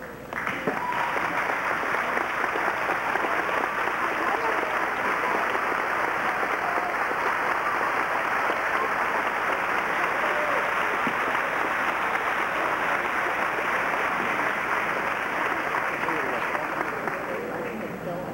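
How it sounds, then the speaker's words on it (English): Sustained audience applause fills a graduation ceremony hall at Newberry College as graduates' relatives stand, a steady dense clapping wash that holds evenly loud for the whole stretch, with faint voices mixed underneath. "please stand for a well-deserved round of applause"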